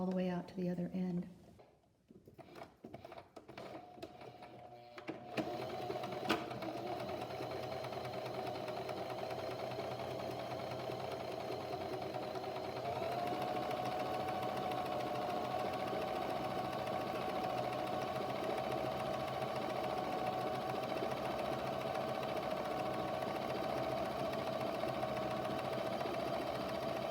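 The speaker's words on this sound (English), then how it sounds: "We're going to sew all the way down and through the mask a second time" A sewing machine runs a seam down and across a fabric face mask, a steady mechanical hum that continues for most of the stretch after a quieter, uneven start.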